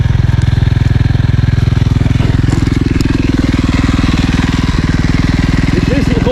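Motorcycle engine running on snow, loud and close, a steady rapid thumping idle that holds throughout while people talk over it.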